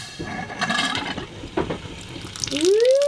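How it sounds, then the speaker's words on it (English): Filtered water runs and trickles into a water bottle aboard a sailboat. Gurgling pours and drips are close, with a rising filling tone near the end. "I'm filling me water bottle"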